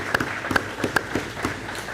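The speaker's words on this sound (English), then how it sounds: "So let's give them a round of applause real quick." A few scattered hand claps from a small group, brief and uneven, fading quickly rather than building into full applause.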